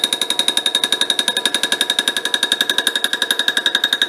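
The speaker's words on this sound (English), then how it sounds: "And we're just chipping the metal off that edge now." Metal lathe with a 4-jaw chuck taking light cuts that chip metal off a workpiece edge, giving a fast, steady, loud rattling chatter with a piercing high ring, heard alone.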